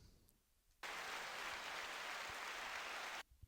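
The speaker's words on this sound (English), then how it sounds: "there's the round of applause that I've just discovered" A canned round of applause sound effect on a podcast bursts in abruptly at full level, holds as a steady dense wash of clapping for about two and a half seconds, then cuts off sharply.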